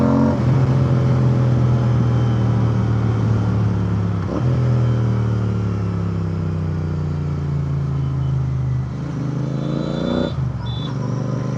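A Royal Enfield Interceptor 650 parallel-twin motorcycle rumbles close by with a deep, steady exhaust growl, its pitch rising and falling through a few gentle revs and a short dip near the end.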